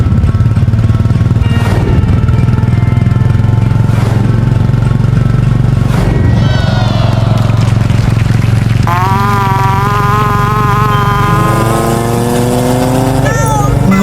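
An old, battered motorcycle pulls away with a steady low engine drone that runs throughout, while animated voices shout over it.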